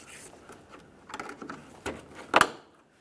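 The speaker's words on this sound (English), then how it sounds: "Use our trim tool. We'll pop this out of place." A plastic trim tool pries a push clip inside the wheel well of a 2015-2020 Ford F-150, soft scraping and fiddling ending in one sharp, close pop.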